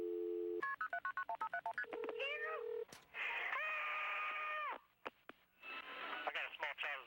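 A dispatcher's phone line dials out to connect a call to EMS: a quick run of distinct touch-tone beeps, then sustained ringing and connection tones, loud and close with no talking over them.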